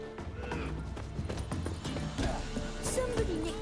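Horse hooves clatter in a steady clip-clop gallop in The Witcher 3, moderately close, with a brief whinny and faint game sounds layered over the rhythm.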